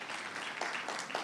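Audience applause at a Seoul forum after a science minister's speech, a brief steady wash of clapping with no voices over it.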